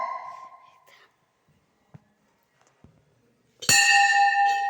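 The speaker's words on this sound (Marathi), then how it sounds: "आता मी घंटा वाजवायची कोशिश करते." A temple bell is struck once near the end, a loud, bright metallic clang that rings on with sustained tones, after faint murmuring and small knocks.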